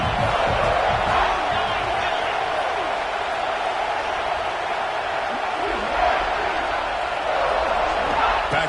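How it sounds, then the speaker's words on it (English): A college football stadium crowd roars steadily to back the home defense in the red zone, a dense, unbroken wall of cheering with a commentator talking over it. "And the crowd coming to life here, trying to help this defense down in the red zone."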